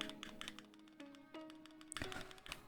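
Quiet close typing on a Keychron Q2 mechanical keyboard just after its spacebar is fitted: a run of light irregular key taps and clacks with a couple of heavier thunks.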